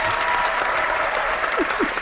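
A dense, steady wash of applause, like a stock clapping effect, fills the whole stretch evenly at moderate loudness with no voices over it.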